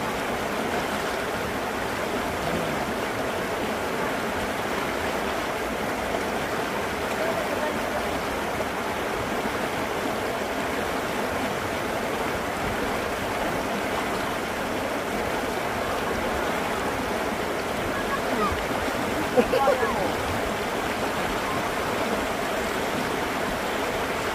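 A cold river flows steadily in a continuous, broadband rush of water, loud and unbroken throughout, with a faint splash or clatter near the end and no talking.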